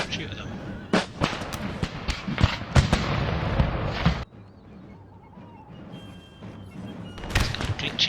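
Musket volleys in the strategy game Empire: Total War, a dense crackle of overlapping gunfire and thumps for several seconds, then quieter, with a few more scattered shots near the end.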